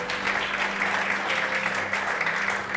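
A church congregation applauds in one dense, steady wash of clapping that holds at a constant level throughout, with a faint low electrical hum underneath.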